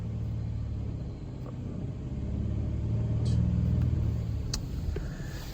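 A car engine idles and then holds a raised RPM while powering an inverter, its close, steady rumble swelling slightly as the revs climb.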